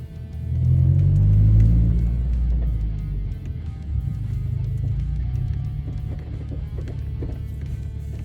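A 2022 Subaru WRX fitted with aftermarket end links idles and rolls with a deep, steady rumble, a heavier swell early on, and faint knocks and clunks from the suspension running underneath.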